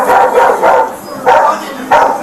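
A dog barks outside a store during a confrontation in which a man refuses to leave. Three loud, close bursts of barking come at roughly even intervals.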